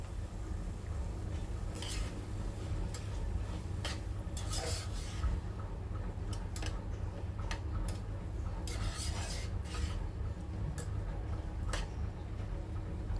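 Rice sautéed in ghee with turmeric and garam masala, stirred in a pan: quiet, scattered scrapes and clinks of a spoon over a low steady background hiss, no talking.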